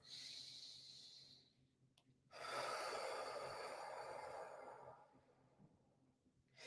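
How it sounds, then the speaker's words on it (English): Deep breaths are drawn in and let out slowly through the nose and mouth, two long airy exhalations close to the microphone, with a quiet pause between them. "breathing in deep, filling up your lungs all the way to the brim, and then exhaling all the way out"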